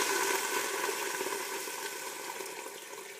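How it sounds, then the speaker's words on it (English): Filtered water pouring steadily into a pot of split pea soup on the stove, a continuous close hissing splash that eases slightly in level, no voices. "I'm going to go ahead and add some water"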